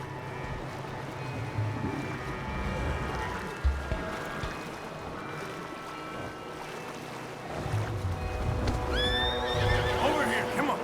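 Horses neigh and whinny amid hoofbeats and rushing outdoor noise in the video game Red Dead Redemption 2, with a voice speaking over parts of it.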